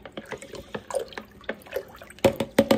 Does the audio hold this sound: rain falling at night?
no